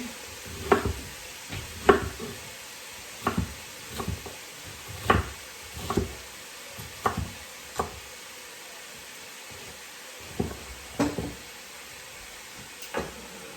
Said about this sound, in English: We're gonna let this saute for a few hours